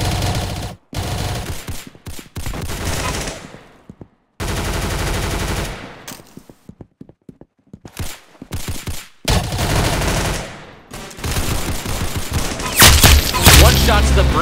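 Gunfire in the Roblox game Arsenal: loud bursts of rapid automatic shots in long sustained volleys, broken by short gaps and a stretch of separate single shots, with a final heavy burst near the end.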